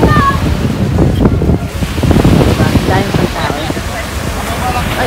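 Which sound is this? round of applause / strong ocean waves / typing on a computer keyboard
strong ocean waves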